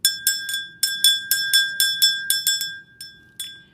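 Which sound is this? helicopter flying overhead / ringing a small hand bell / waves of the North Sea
ringing a small hand bell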